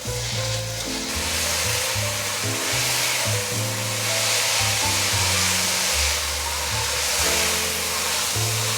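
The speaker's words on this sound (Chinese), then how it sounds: "赶快翻炒，把调味料炒至融合" Cabbage and king oyster mushrooms stir-fried in a wok with salt, white and black pepper, rosemary and white and black sesame seeds: a loud, steady close-up sizzle with tossing, over a low tonal background.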